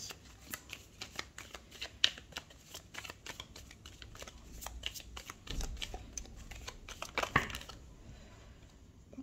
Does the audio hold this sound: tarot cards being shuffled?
yes